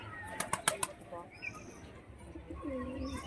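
A male pigeon at a pigeon sale beats its wings in a quick burst of four or five close, loud flaps, followed by softer cooing and faint bird chatter.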